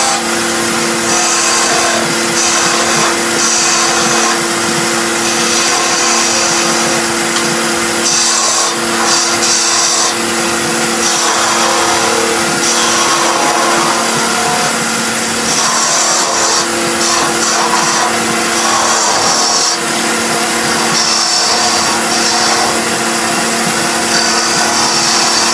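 A wood lathe turns a German smoker figure while a spindle gouge cuts the workpiece. The whirring and scraping stay loud, dense and unbroken throughout, with no voices.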